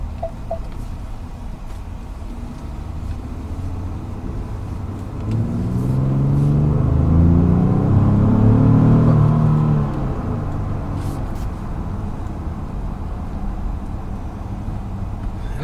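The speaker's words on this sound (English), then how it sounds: "a lot that you notice is the induction noise from the engine" Engine induction noise from a 2017 Ford Explorer Platinum swells into a deep, loud intake roar under acceleration for about four seconds, then settles back to a steady cabin hum.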